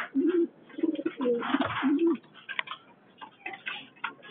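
Pigeons cooing in a loft, the parent birds giving repeated low throaty coos close by, with fluttering and faint clicks between calls.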